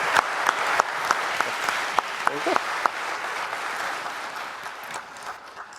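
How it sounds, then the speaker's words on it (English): Church congregation applauds a group of young adults, with sharp individual claps popping out over a full, even roar of clapping that gradually thins and softens over several seconds. "can you guys join me in giving a round of applause for these young adults?"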